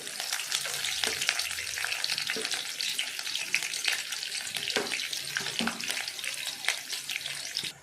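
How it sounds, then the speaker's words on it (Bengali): Loud, steady sizzling of dried and green chillies frying in hot oil, with occasional scrapes and stirring sounds and no talking. "লঙ্কাটা ভাজা ভাজা হয়ে গেছে"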